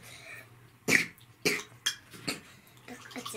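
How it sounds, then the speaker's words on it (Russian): A small child coughs in several short bursts, with faint clinks of dishes and quiet room noise between them. "Ой, кашляет уже."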